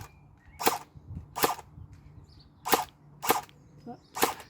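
Semi-automatic gun, likely an airsoft replica in a private arsenal, firing five sharp, crisp single shots at uneven intervals, fairly close, with faint background noise between them.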